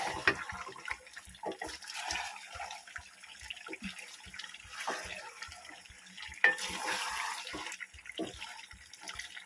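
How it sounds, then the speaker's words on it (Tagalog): Water is poured into a vegetable dish cooking in a pan, a splashing, gurgling flow with uneven surges and faint rhythmic ticking beneath, fairly close and moderately quiet. "maglagay na tayo ng tubig kasi medyo masusunog siya"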